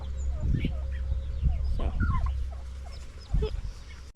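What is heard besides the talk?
turkeys gobbling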